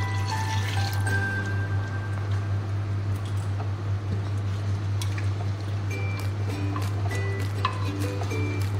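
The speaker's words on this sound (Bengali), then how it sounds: "এবারে এই যে মটন সিদ্ধ করা জলটা দিয়ে দিলাম।" Mutton stock being poured from boiling into a pot of cooked mutton handi, a soft steady liquid pour and trickle over a constant low hum, fairly quiet throughout.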